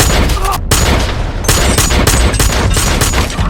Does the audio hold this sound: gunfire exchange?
yes